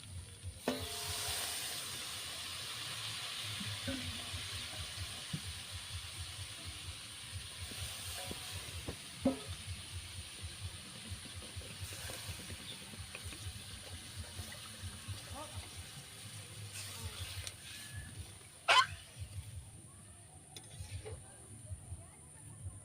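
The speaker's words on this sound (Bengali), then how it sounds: "জলটা দেওয়ার পরে তরকারিটা ফুটে উঠুক" Potato curry with water added simmers in a pan, giving a soft, steady hiss and bubbling with occasional utensil clinks, heard faintly from close by as a person talks over it.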